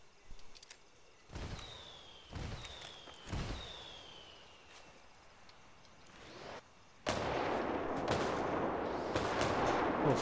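Mortar artillery fire in the video game Ghost Recon Wildlands: three separate booming impacts, each with a falling whistle, followed by a sustained loud roar of blasts.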